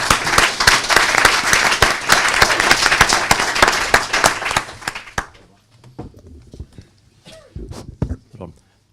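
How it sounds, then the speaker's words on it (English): Conference audience at a concluding session applauding, dense clapping that fills the room for about five seconds and then fades out, followed by scattered quieter sounds and a few claps. "can we have a round of applause for"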